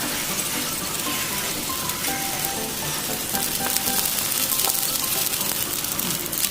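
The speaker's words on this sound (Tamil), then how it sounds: "லோ ஃப்ளேமில் வச்சு நல்லா இதை 2 சைடுமே நல்லா ரோஸ்ட் பண்ணுங்கள்" Wheat flour stuffed dough roasts on a pan over a low flame with a steady, close sizzle and crackle of cooking oil, occasional small pops over a constant frying hiss, with no talk.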